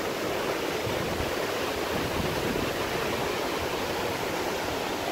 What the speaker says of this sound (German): Der größte Wasserfall Kroatiens, ich glaube circa 70 Meter habe ich gelesen.